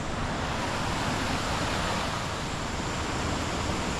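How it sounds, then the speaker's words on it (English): A small waterfall spilling into a natural pool at a hotel in San Luis, Antioquia, Colombia, makes a steady, full rushing roar, continuous and fairly close, with no voices. "Little waterfall right there."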